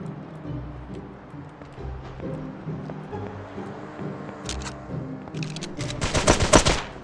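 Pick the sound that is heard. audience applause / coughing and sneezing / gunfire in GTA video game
gunfire in GTA video game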